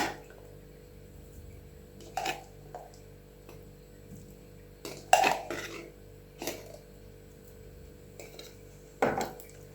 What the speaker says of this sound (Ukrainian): Перемішуємо